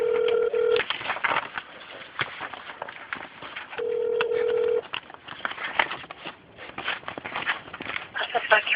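Someone dials a telephone extension: a few short tones appear at the start and again midway, with ringback and line sounds under steady talking on the call.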